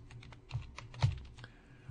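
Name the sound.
typing on a computer keyboard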